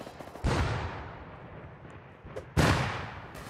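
Grenade explosions and gunfire in the game Rust, with two heavy booming blasts about two seconds apart that each fade into a rumbling tail.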